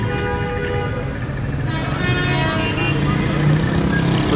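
Car horns honk amid dense traffic on a Damascus street, the tooting tones woven into a constant roar of engines and city bustle, heard from the pavement.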